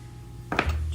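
A small cutter slices through biscuit dough on a kitchen counter, one quick soft knock of blade meeting the surface, close and brief.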